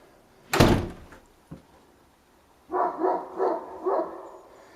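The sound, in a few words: door being closed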